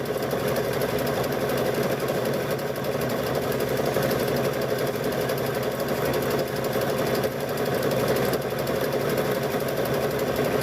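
Sewing machine stitching thick rope for a wall hanging, a fast steady whirring hum with rapid needle chatter, running continuously and close with no pauses.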